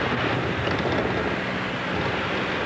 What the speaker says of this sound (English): We've got a noise coming out of this engine here.